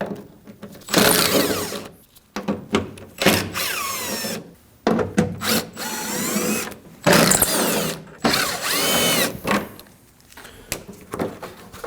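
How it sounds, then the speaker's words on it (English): A power driver backs out T30 Torx screws from the plastic tailgate panel of a 2009-2014 Ford F-150 in a series of short bursts of whirring, separated by pauses and small clicks and handling noises. "Now we have 14 T30 Torx bits holding our plastic panel onto the tailgate. We'll go ahead and remove those."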